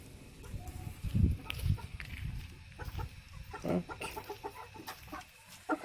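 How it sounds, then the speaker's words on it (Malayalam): Chickens cluck in short bursts nearby, with faint peeping of chicks scattered across the background. "ഇവരൊക്കെയാണ് എൻ്റെ കോഴിക്കുഞ്ഞുങ്ങൾ"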